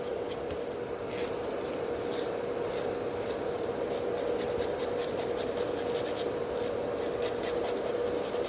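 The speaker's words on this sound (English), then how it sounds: "I quite like this file movement as well, because I can really nicely push the cuticles" Nail file reshaping a natural nail during a salon gel overlay rebalance, close, dry rasping strokes in a quick steady back-and-forth rhythm throughout, with no voices.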